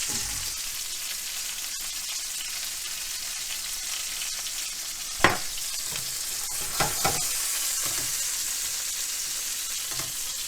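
Chicken sautéing in a pan seasoned with black pepper and salt, giving a constant close hiss of sizzling fat with a few sharp utensil taps and scrapes midway, no voices.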